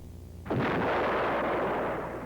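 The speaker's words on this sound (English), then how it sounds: "Here is the gunner's view of a tow launch, followed by a veer-off while tracking the target." TOW missile fired from a Lockheed AH-56A Cheyenne attack helicopter: after a quiet moment, a sudden loud blast opens into a sustained, dense roar lasting about two seconds before slowly easing.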